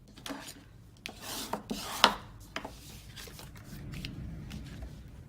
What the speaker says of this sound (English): I'm just going to fold and burnish.